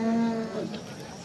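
A grey cow, sold at a livestock market in Osh along with her calf, gives one loud, close moo that sweeps down and fades out over about a second.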